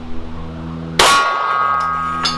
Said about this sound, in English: Let's go to the gong.